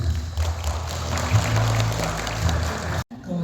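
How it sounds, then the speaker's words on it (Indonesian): Applause from a seated audience welcoming a speaker at a school teacher-training session, steady broadband clapping over low hum, cutting off abruptly near the end. "Tepuk tangan yang meriah mengantarkan Ibu Inge."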